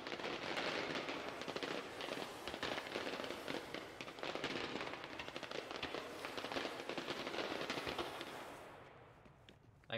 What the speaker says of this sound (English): I got lost with the fireworks